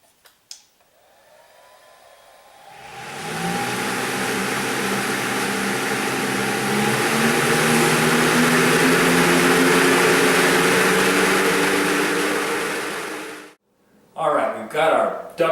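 A loud duct blaster fan whirs up after a couple of seconds during a home duct leakage test, runs with a steady roaring hum, then cuts off abruptly before a few faint sounds follow.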